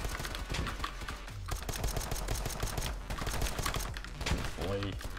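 Glock pistol fire in the shooter game Polygon crackles as a dense flurry of rapid shots, mixed with other players' gunfire, loud and near throughout with a voice briefly over it.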